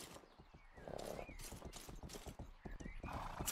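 Horse hooves clip-clop in quick rhythm in the video game Rustler, with a horse neighing twice over the trotting, close and clear.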